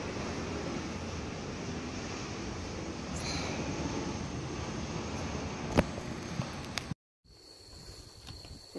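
Airplane flying overhead at an outdoor wetland site, a steady broad roar that stays even for about seven seconds and then cuts off, leaving faint quiet ambience.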